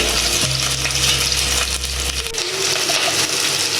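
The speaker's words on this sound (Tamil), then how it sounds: "இப்போ கிளறி விடுறேன்." Green chilies and curry leaves fry in oil in a clay pot, a loud, close, continuous sizzle and crackle with a low rumbling hum under it that drops away halfway through, while stirring scrapes along the pot.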